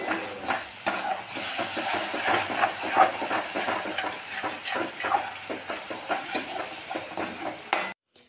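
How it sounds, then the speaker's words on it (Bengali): Spice masala sizzles in a pan for a Bengali mixed vegetable dish as a spoon stirs it in repeated scraping strokes, with a steady frying hiss underneath, close and fairly loud, ending abruptly. "মশলা কষিয়ে নেওয়া হয়ে গেল।"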